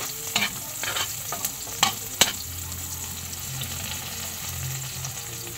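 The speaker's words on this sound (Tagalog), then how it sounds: "Kaya maggisa na lang tayo." Onion and garlic sautéing in a pan where tilapia was fried earlier, a steady sizzle with a few sharp clinks and scrapes of a spatula stirring near the start, no talking.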